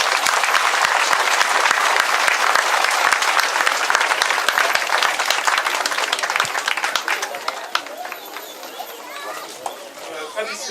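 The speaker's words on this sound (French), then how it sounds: "On peut continuer à applaudir," Sustained applause from an outdoor crowd at a monument plaque unveiling ceremony in French Guiana, dense, steady clapping that thins toward the end, with children's voices mixed in.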